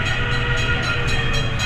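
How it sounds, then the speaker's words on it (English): The Blazing Fury indoor dark ride roller coaster train at Dollywood rumbles loudly and continuously, with steady dense rolling noise and faint repeating pulses, and no voices. "Here comes the train."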